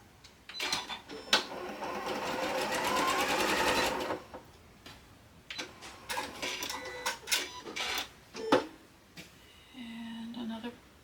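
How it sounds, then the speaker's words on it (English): A sewing machine stitches quilt pieces in short runs, first a sustained whir of a few seconds, then several brief bursts of stitching with pauses between, up close and alone. "So let's sew these on."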